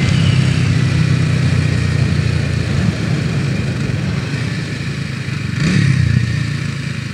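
A Kawasaki W230 motorcycle cruising at almost 110 km/h, its steady engine drone blended with constant loud wind roar and no real change in pitch throughout.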